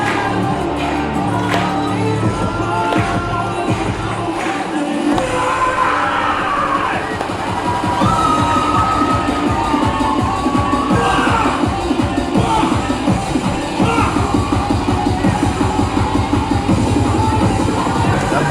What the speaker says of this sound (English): Crowd getting into it with the hand claps to the beats of the music already.